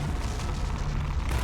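A grenade blast rumbles inside the reactor in Half-Life, a dense, continuous low roar filling the short moment with no voices.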